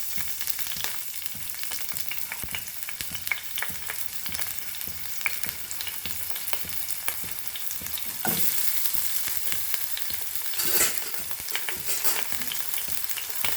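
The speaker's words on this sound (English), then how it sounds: "of oil and I'm adding few curry leaves to this. Green chilies and onions." Curry leaves, green chilies and onions fry in oil in a pan, making a constant close sizzle with frequent crackles and stirring clatter for a Goan chilli fry.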